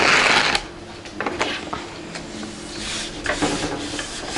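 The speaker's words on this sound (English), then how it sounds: "I glue the envelope, and it is very easy" Paper rubbing and pressing while an envelope is glued down to form a pocket for a craft journal: a loud scuffing burst at the start, then quieter intermittent rubs and soft shuffles, close and alone.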